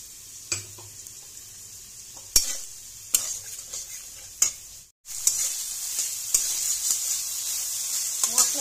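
Spice paste of chili and cumin frying with potatoes and eggplant for a tangra fish curry, a continuous close sizzle punctuated by sharp spatula clinks and scrapes against the pan, briefly dropping out then resuming louder.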